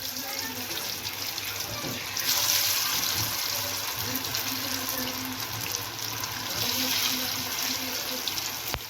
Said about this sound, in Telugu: వీటిని మనం ఇప్పుడు డీప్ ఫ్రై చేసుకోవాలి